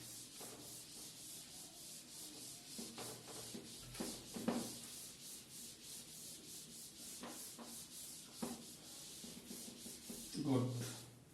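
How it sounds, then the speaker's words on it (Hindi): A board being rubbed clean of writing with repeated scrubbing strokes, soft and close, with occasional louder scrapes and a few faint knocks against the surface. "तो मैं इसको रब करके कुछ क्वेश्चंस ट्राई करते हैं"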